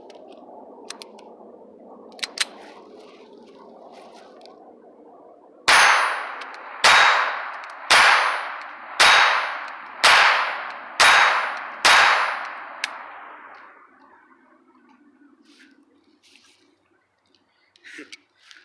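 Seven sharp gunshots from an FIE Titan .25 ACP pistol, fired in a steady rhythm about one per second, loud and close, each with a short ringing decay; a few faint clicks come before and after.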